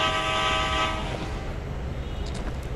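A train in a bus-spawning mobile video game, loud and close, with a sustained horn-like tone over rumbling wheels during the first second, then fading into a steady rolling rumble with faint high clicks.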